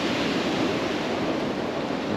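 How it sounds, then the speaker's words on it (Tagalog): Sea surf along the coast near Balete, Aurora, a dense, continuous wash of breaking waves heard alone, steady and fairly loud with wind rushing across the microphone. "Ganda ng dagat."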